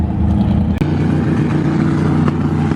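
A Honda-swapped pro truck on a drag run: a loud engine roars close by, with a brief dip that may be a gear change, then a steady high-revving drone continues alone.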